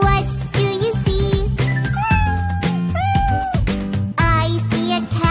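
A voice imitates a cat with melodic, sung meows in a children's dance song, repeated over steady backing music.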